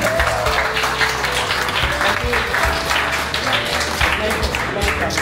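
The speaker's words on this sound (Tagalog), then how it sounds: "Palakpak naman dyan para ganun naman po." An audience at a group painting briefing session applauds with loud, steady clapping, with a low hum and some voices beneath it.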